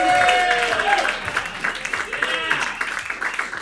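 Audience applause and cheering for a comedian at a New York roast battle comedy show, a loud dense burst of clapping with crowd noise that fades under a host's voice.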